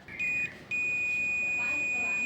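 Multimeter continuity buzzer sounding on a shorted electrolytic capacitor in an LG Smart Inverter board, a high steady tone that beeps briefly, breaks off, then holds continuously, with faint talk underneath.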